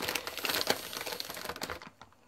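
Plastic foil wrapping on a boxed ASUS GeForce GTX 1070 Dual graphics card crinkles close up in quick, irregular crackling bursts that fade out near the end.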